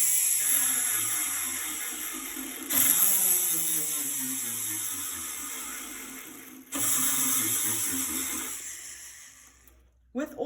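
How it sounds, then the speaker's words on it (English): A diamond-coated drill bit texturing a surface with a little water as lubricant: a long, steady high grinding whine that cuts out and restarts, with voices over it. "Diamond coated drill bit, of which I'm going to just lubricate with a little bit of water."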